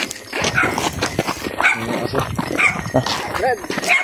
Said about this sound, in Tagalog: May mga aso tol